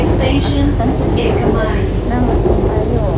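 A loud, steady rumble and clatter of a moving electric train fills the space, with faint voices murmuring underneath.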